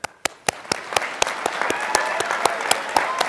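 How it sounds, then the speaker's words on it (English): Graduation commencement crowd bursts into sustained applause and cheering, dense clapping with sharp loud claps throughout, filling a large hall. "And now, a resounding cheer for the class of 2014."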